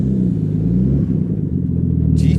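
A Mitsubishi GTSX twin cam turbo car idles and rumbles up close, with a steady, deep engine note throughout.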